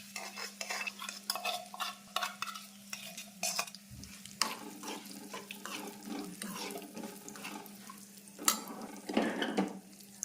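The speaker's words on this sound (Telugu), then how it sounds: "బాగా వేయించుకోవాలి. సరిపోయిన నెయ్యి కూడా ఇంత సుమారు కూడా వేసేస్తున్నాం తగ్గిద్దని." Cashews fry in ghee in a pan for sweet chakkera pongal, with a soft sizzle under repeated scraping and stirring strokes, close by, with occasional louder clinks against the pan.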